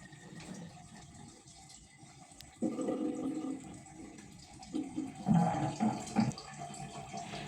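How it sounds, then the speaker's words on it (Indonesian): Running water at a sink while someone washes their face and brushes their teeth: a low trickle swells into a louder, uneven splashing gush with bursts of rinsing. "setelah udah cuci muka dan cuci gigi"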